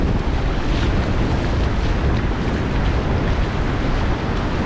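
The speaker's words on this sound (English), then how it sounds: "Look at these big, beautiful waves." Big ocean waves crash continuously on a beach in El Salvador, with heavy wind buffeting the microphone in a loud, dense roar and no voices.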